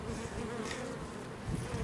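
A honeybee buzzes steadily and softly up close during a waggle dance inside the hive, a continuous insect hum with no voices.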